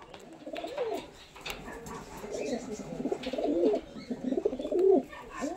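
Chotiyal and Madras pigeons coo repeatedly in a soft, rolling rhythm, several birds overlapping close by, with brief chirps in between and no voices.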